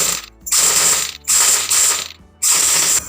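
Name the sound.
stitching folded fabric piping for a blouse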